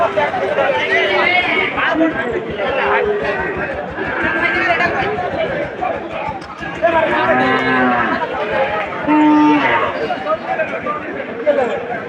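Cattle moo repeatedly at a cattle market, several loud drawn-out calls, amid a busy crowd of people chattering close by throughout.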